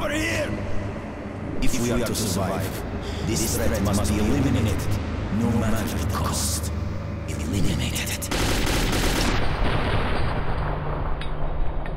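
Gunfire and booming blasts in the video game Metro 2033, dense and continuous over the whole stretch, with people talking over the shooting.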